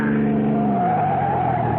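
A car skids as it is forced off the road in a radio drama, a sustained tire squeal sliding in pitch over a roaring engine, loud and close, lasting nearly two seconds.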